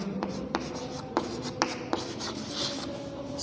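Chalk or marker writing a multiplication table on a classroom board, a series of distinct taps and scratchy strokes at an irregular pace, close and alone.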